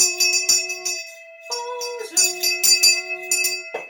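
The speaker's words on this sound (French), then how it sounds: "C'est le cloche du latin qui sonne au retour du jour." Bell tones ringing in a short melodic sequence with sustained pitched notes and sharp struck attacks, loud and close, in a children's Easter show.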